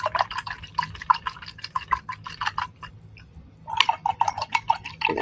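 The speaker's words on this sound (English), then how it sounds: "And I'm going to wash my brush." An acrylic paintbrush is swished and tapped in a cup of water, making quick, close clinking splashes and drips. There is a short pause in the middle, then another burst of rinsing.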